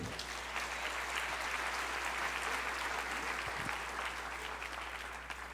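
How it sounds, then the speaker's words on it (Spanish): A church congregation applauds steadily, a dense, even wash of clapping that holds for several seconds at moderate loudness with a low hum underneath, fading slightly near the end. "¿Le das un aplauso a Dios por eso?"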